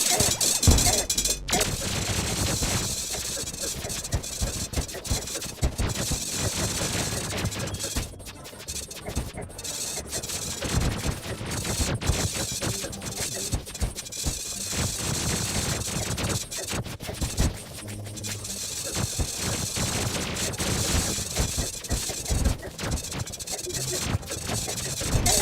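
Terraria boss fight against the Destroyer, a giant mechanical worm, attacked with spears: a relentless barrage of rapid hits, crunches and explosive impacts, dense and loud throughout with only brief dips.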